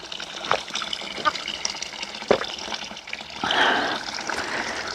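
Water trickles and gushes in a thin stream outdoors, rising to a steadier pour near the end, with a voice talking over it.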